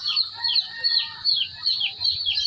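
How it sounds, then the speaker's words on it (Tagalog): Chickens cluck and murmur in repeated short calls, close by, in a steady rhythmic pattern with a faint low background rumble. "bibisita tayo sa ating mga alagang mga manok"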